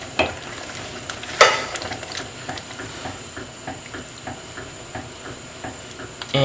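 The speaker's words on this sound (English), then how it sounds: "And just going to keep stirring around." Chili con carne with Goya red kidney beans is stirred in a pan over a constant sizzle, with close rhythmic scrapes and the odd sharp clank of the spoon, with no voices.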